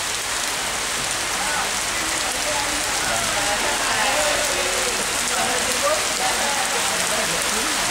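Steady rain falls during a seaside trip to Sầm Sơn, Thanh Hóa, a dense, continuous hiss of drops on surfaces that stays even and close throughout.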